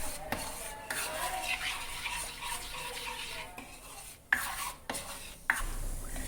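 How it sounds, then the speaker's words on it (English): A spoon scrapes and stirs thick kadha prasad halwa in a pan over a medium flame, with soft continuous rubbing broken by a few sharp clinks against the metal, close and quiet. "But you have to keep stirring at this."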